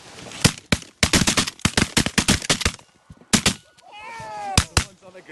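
Shotguns fire during a goose hunt in a Canadian snowstorm, with a rapid burst of loud, close blasts in several clusters and honking geese calling in between.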